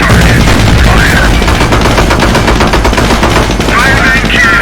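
Sustained, loud battle fire from a Sherman tank cannon and small arms in the Company of Heroes video game: dense, rapid bursts of gunfire that fill the whole stretch, with faint voices mixed in.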